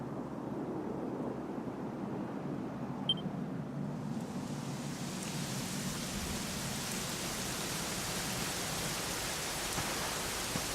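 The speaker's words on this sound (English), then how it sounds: "it was raining like this the last time I ever saw her" Steady rain in a video game (Dragon Quest XI) falls continuously, a soft even hiss that thickens after a few seconds, with no voices present.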